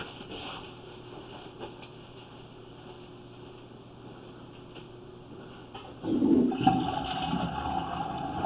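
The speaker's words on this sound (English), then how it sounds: "we're going to have to flush the toilet." A toilet is flushed during a sewer pipe camera inspection. A faint hum runs for about six seconds, then the flush arrives as a louder rushing and gurgling of water that continues to the end.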